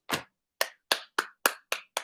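One person on a live stream claps seven times for the Avengers Madlibs players, crisp, close slaps with a pause after the first, then a quick, even rhythm.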